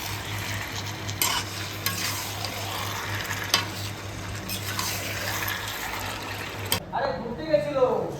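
Chicken going into fried masala in a pan and being stirred, a loud, wet, bubbling sizzle with stirring scrapes that cuts off near the end as a voice starts talking.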